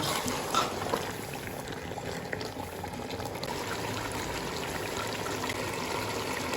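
Water pours steadily into a cooking pot of browned meat for a tinda gosht curry, with a continuous bubbling, splashing rush and a soft clink at the start.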